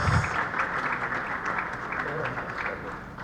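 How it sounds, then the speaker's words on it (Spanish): Applause from an audience at a forum greets the speaker Dr. Enrique Cornejo, a steady wash of clapping that fills the moment without a break, fading slightly toward the end. "pido un fuerte aplauso para el doctor Enrique Cordejo Ramírez"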